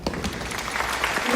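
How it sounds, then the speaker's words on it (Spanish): A short burst of steady applause from an audience at a radio program, even and continuous throughout. "Un fuerte aplauso"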